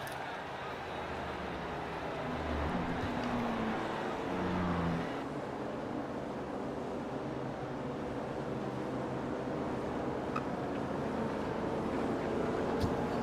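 Racing cars rolling through a formation lap at Road Atlanta in an iRacing ChampCar series race, a steady broadband engine and tyre roar with a brief low drone change midway, continuous and fairly loud throughout.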